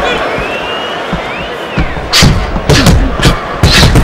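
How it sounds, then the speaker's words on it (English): In the Fight Night Round 4 boxing video game, at the Royal London Theatre, punches land as heavy thuds and slaps over a constant crowd roar. A commentator speaks over the bout, and the hits grow denser toward the end. "That is a big right hand after eating one himself."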